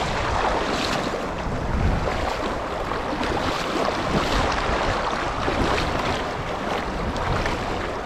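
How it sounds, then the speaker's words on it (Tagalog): Strong river current rushing past a fishing boat, a steady broadband wash of churning water and wind that holds at a constant level throughout with no voices. "Lakas ng agos niya, no?"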